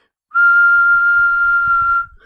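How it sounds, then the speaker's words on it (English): A person whistles a single steady, unwavering tone for about a second and a half, clear and close, with only faint low rumbles underneath and no talking. "I could whistle"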